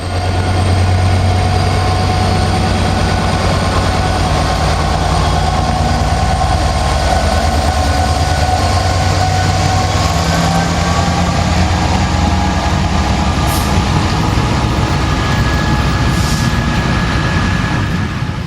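A charter train locomotive on a UK rail tour gives a loud, continuous heavy diesel drone with deep low rumble and steady rail noise, sustained throughout without pauses or talk.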